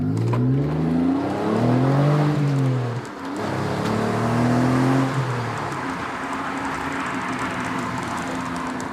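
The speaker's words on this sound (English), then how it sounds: "We'll get it up the road and we'll see what it's like to actually drive." An Alfa Romeo Spider 916 pulls away, its engine rising through a couple of revving gear pulls with a brief dip between them, then settling into a steady cruising drone, close and loud.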